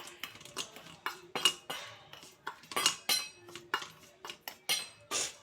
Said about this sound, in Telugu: ఇప్పుడు దీన్ని అన్నీ కలిసేలా కలుపుకోవాలి